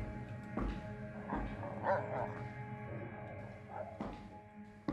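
A dog barks a few times in the horror game The Wrong Floor, scattered short yaps and whimpers set against a low droning ambience.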